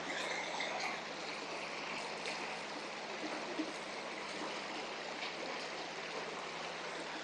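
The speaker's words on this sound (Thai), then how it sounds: "เสียงน้ำไหลอ่ะ" Steady rushing of stream water flowing nearby in rainy season at Khao Sip Ha Chan National Park, Chanthaburi, Thailand, a continuous broad wash of sound with no voices.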